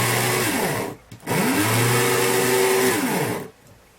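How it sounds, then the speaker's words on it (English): An old 1970s PCB drill's motor whines loudly as it spins up, holds a droning pitch, briefly cuts out, then runs again with rough, harsh tone before winding down. "it's just the motor sounds horrible."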